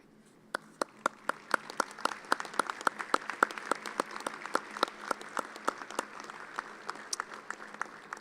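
Graduates clap for faculty at a fall business administration commencement ceremony, heard as sparse, distinct claps from a moderate crowd, fairly faint, with individual hand strikes standing out in an uneven rhythm.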